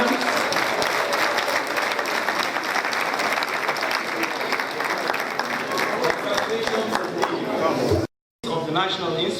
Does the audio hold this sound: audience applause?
yes